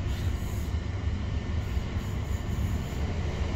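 A British Rail Class 376 electric train runs on rails between Eltham and London Charing Cross, giving a steady, close rumble with some wheel noise throughout and no talking.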